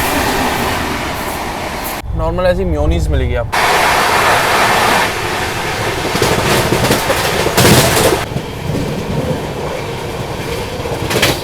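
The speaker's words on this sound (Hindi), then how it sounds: "तो आज की जर्नी होने वाली है ट्रेन नंबर 2222 सेंट्रल रेलवेज की मुंबई राजधानी एक्सप्रेस में" Train 22222, the Central Railway Mumbai Rajdhani Express from Delhi, rumbles steadily around the listener inside a second AC coach, with someone talking over the continuous rolling noise.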